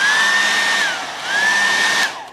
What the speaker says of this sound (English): I'm using the hairdryer with one hand